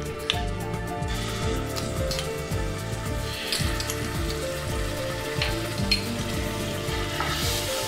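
Garlic paste fries with Kashmiri chilli powder in a pan for a cabbage kofta curry gravy, a loud, even, close sizzle with occasional stirring scrapes and a faint tonal background.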